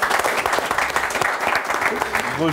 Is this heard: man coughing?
no